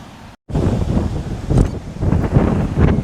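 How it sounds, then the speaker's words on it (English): Strong gusting wind on the rocky coast at Bar Harbor, Maine, buffets the microphone in rough, low roaring surges, with a brief dropout near the start, outdoors and close. "It's pretty windy."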